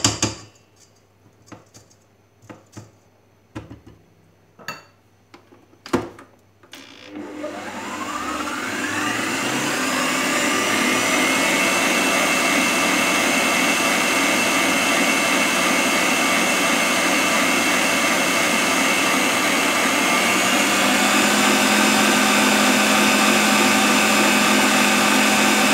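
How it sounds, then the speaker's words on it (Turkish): An electric mixer whips sugar and butter for a red velvet cake. A few sharp knocks come first, then the motor starts and settles into a loud, steady whirring drone that runs without a break to the end. "Şeker ve yağla şöyle güzelce çırpacağım."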